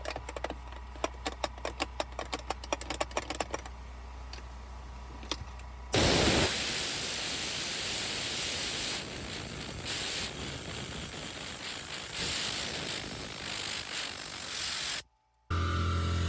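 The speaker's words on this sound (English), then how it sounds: "And then use my TORNADOR gun to go ahead and blow all that gunk out from in there." A Tornador air gun blasts compressed air into a car's center console to clear out gunk. Rapid rattling pulses come first, then a loud steady roaring hiss that stops abruptly near the end and briefly starts again, close and with no talking.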